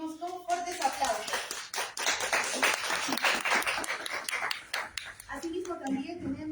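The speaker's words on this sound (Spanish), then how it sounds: "Lo recibimos con fuertes aplausos." An audience at a talk on strong and weak states claps loudly to welcome a speaker, a dense burst of applause lasting several seconds, with a voice speaking briefly before and after it.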